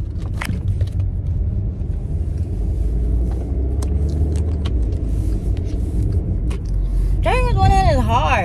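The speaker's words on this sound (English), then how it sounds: "Driving with one hand is hard." A car cabin on the move, with a steady low engine and road rumble running throughout and a voice speaking briefly near the end.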